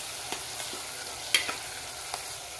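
Spinach and papdi being stirred with masala in a pan, a faint soft sizzle with a few light scraping clicks of the spoon against the metal, quiet and close, with no talking.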